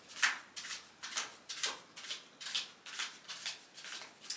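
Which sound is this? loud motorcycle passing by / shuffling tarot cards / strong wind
shuffling tarot cards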